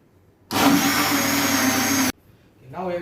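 A blender whirs loudly through red cabbage and water in one steady burst of under two seconds, starting and stopping abruptly, with a voice speaking just afterward.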